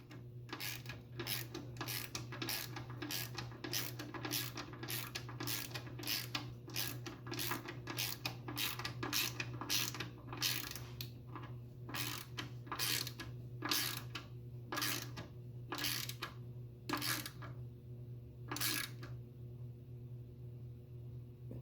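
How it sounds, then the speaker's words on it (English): A ratchet wrench clicks in quick, regular bursts while bolts are tightened on the front suspension of a 1987 Chevy S10 truck, close and fairly quiet over a steady low hum. "So tightening up the top half is pretty straightforward. I usually use a ratchet wrench"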